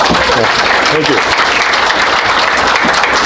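Applause for Jeff fills the room at a 55-year high school class reunion: dense, steady clapping from the gathered crowd, close and loud, with voices calling out over it.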